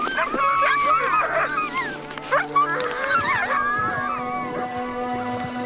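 A pack of sled dogs howls and whimpers together outdoors in the Arctic, overlapping wavering cries rising and falling, loud and close, continuous throughout.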